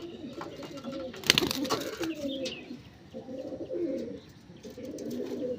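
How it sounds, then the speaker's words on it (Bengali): Punjabi pigeons coo in repeated low, throaty rolling phrases, close and fairly soft, with a brief rustle or flap partway through. "পায়রা দুটো ফুল রেজাল্টেড পায়রা আছে একদম।"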